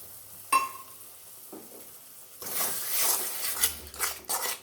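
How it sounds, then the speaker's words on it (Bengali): Well-beaten curd tipped into mashed tomato with turmeric in a hot pan, a short splash and sizzle followed by bursts of crackling frying and spoon scraping against the pan, close and fairly loud. "এখন অ্যাড করে দিচ্ছি খুব ভালো করে ফেটিয়ে রাখা দই।"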